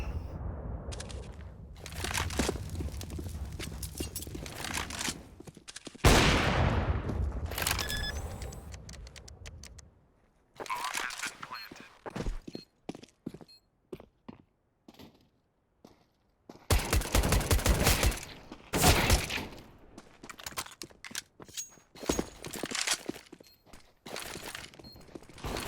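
Pistol gunfire in Counter-Strike on the Dust 2 map during a tournament match, bursts of sharp rapid shots in clusters separated by quieter gaps, with clicking and clatter between them.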